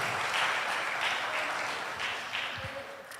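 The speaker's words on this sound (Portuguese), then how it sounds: "Só quem crê aplaude em nome de Jesus" A church congregation applauds during a sermon, a faint, steady spread of clapping across the room that tapers slightly toward the end, with no speech over it.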